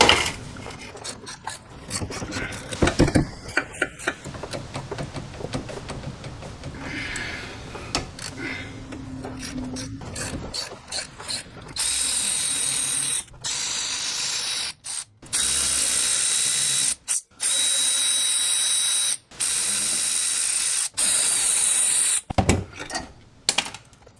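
Ratchet with a triple square bit loosening axle bolts on a Porsche 944: rough grinding and clicking at first, then loud repeated bursts of close metallic ratcheting separated by short pauses.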